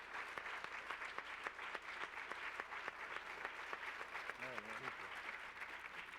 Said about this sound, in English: we should just give him another round of applause for